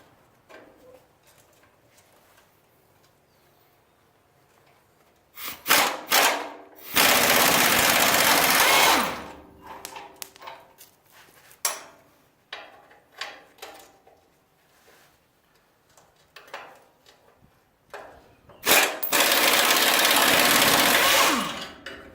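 Power tool loosening 11/16 nuts on 5/8 bolts from an F250 truck frame cross member, sounding as two loud sustained bursts of whirring and rattling several seconds long, separated by quieter clanks and handling noises.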